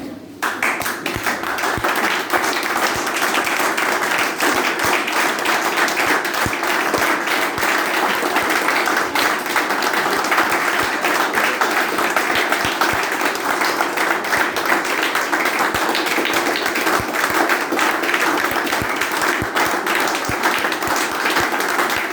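A large audience at an evening gathering claps continuously, a dense and loud wall of applause that holds steady for the whole stretch.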